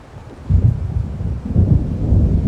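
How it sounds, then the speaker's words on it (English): Low rumbling thunder from an approaching storm in the video game Alan Wake Remastered, rolling in two swelling waves amid a steady wash of rain, fairly loud with no talk. "It seems there's a storm coming."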